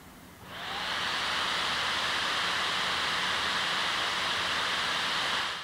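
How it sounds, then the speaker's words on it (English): Illegear Raven SE-R gaming laptop cooling fans spin up quickly from quiet to a loud, steady whooshing hiss that holds evenly at maximum speed. "run the fans at maximum speed though"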